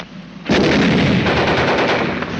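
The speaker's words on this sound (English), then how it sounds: "Keep firing, Heine." Battle gunfire in a 1951 war film about tanks, dubbed in Latin American Spanish: a sudden, loud, sustained volley of rapid machine-gun and rifle shots fills the scene with no speech.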